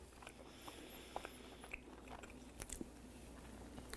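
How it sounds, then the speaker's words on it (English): Bites and chews into a glazed char siu pork rib tip, with soft crunches and sticky, moist chewing sounds close up, irregular and quiet against a faint room hum. "let's take one of our rib tips and give it a taste"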